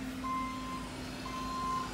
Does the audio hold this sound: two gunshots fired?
no